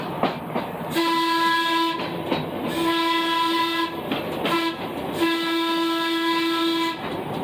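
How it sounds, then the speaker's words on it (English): Ohio Railway Museum car number 64 sounds its whistle in several sustained blasts broken by short gaps, loud and steady over the rumble of the moving railcar. "We'll get you to the whistle of our car, number 64."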